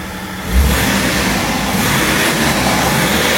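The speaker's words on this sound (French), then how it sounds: "Vas-y, mets un coup de gaz pour voir la différence." Car fitted with a stainless steel exhaust line revving hard, a loud, rough, sustained engine roar that swells after a brief blip and holds steady close by.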